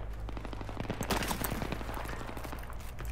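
Sniper fire in Battlefield 3 team deathmatch on Noshahr Canals, a dense crackle of shots and impacts over a steady low rumble, one louder burst near the middle, continuous battle noise throughout.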